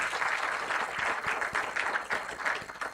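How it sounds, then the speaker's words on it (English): An audience at a maritime stakeholders' event on seafarer welfare gives a round of applause, a dense, steady clatter of many hands with a slightly pulsing texture, close and continuous. "Please join hands and let's have a big round of applause"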